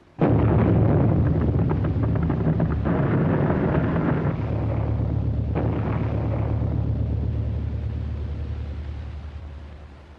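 Bombs dropped from an aircraft exploding in a 1930 war film, a sudden massive blast followed by rolling, rumbling detonations and a heavy low roar that slowly fades over about ten seconds, with no talk.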